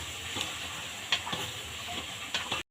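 Chicken khichuri being stirred in a pot over a steady sizzling hiss, with a few soft spoon scrapes at intervals; no one speaks.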